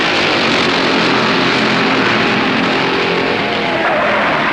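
At the start of the 1964 Southern 500 at Darlington, a field of stock cars roars past in a loud, continuous engine drone that holds steady throughout without speech.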